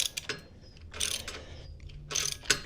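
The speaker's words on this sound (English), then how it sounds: "all we need to do is loosen this bolt right there" A ratchet loosens a sump guard bracket bolt on a Royal Enfield 650 Interceptor in three close bursts of rapid clicking separated by short pauses, with no talk.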